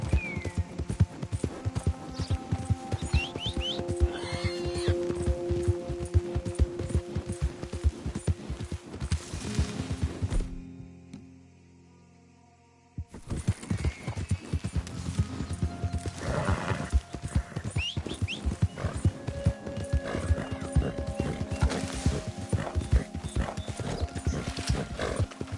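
Hooves clip-clop steadily at a trot or gallop in Red Dead Redemption 2, with occasional horse whinnies and snorts; the sound drops to near silence for a couple of seconds midway, then the hoofbeats resume just as busily.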